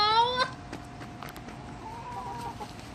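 Several chickens cluck and squawk close by, scrambling over tossed food scraps, with a sharp call early on and busy fowl chatter continuing throughout.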